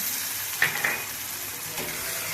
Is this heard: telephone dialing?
no